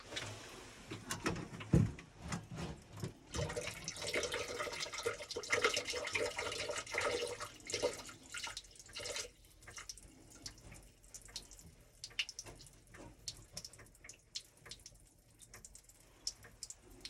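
Water drains and trickles from the drain valves of a camp's plumbing during winterizing, a running, splashing flow that gradually thins into scattered drips and light knocks, fairly quiet and unaccompanied by talk.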